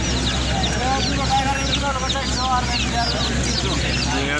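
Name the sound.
chickens clucking at bird market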